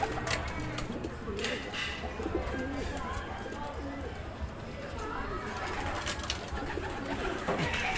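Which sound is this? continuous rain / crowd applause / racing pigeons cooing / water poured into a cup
racing pigeons cooing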